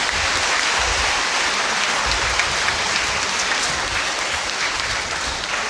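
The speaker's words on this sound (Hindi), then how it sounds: "ताली बजा देंगे जोर से।" A crowd at a Mission Sunday Catholic mass applauds the bishop, with dense, steady clapping that fills the whole stretch at full strength and no speech over it.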